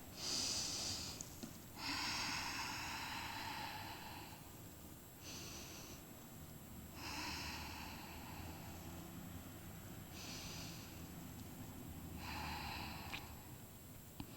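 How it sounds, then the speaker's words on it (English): Slow deep breaths during a Pilates exercise: several long, airy inhales and exhales close to the microphone, alternating in a steady rhythm over a quiet background with no talk. "take 3 deep breaths"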